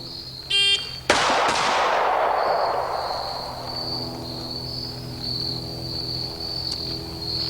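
A shot timer at a shooting range gives one short, sharp electronic beep, followed almost at once by a loud gunshot that rings out and fades, with a steady high insect-like hum in the background.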